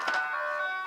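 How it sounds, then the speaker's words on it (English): Ice cream truck chiming its tinkly melody outside, a few bright musical notes ringing clearly. "So sorry if you hear the ice cream truck in the background."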